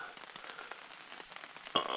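Rain falls steadily on a tent rain fly during a night of thunderstorms, a soft, close patter of scattered drops with a sharper splash near the end.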